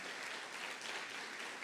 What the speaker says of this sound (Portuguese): Uma salva de palmas a esses irmãos.